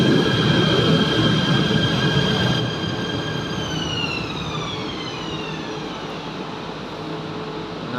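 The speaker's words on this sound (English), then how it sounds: "Another train, ETS. This is platinum, the best train here." An ETS Platinum electric train at a station gives a loud, continuous rumble with high, gliding wheel squeals that ease off partway through.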